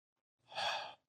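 A single long exhalation, a person imitating the slow breathing of an astronaut drifting in 2001: A Space Odyssey, a soft close breathy rush that rises and fades within half a second.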